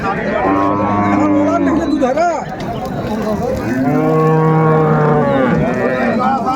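Sahiwal cows and calves at a busy rural cattle market in Dinajpur, Bangladesh, lowing loudly and repeatedly in long drawn moos close by, with people talking in the background throughout.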